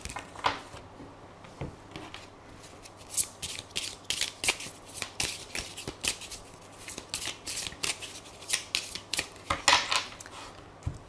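Tarot cards are shuffled and cut by hand, making close, crisp riffling and rustling in repeated bursts and soft slaps, with no talking.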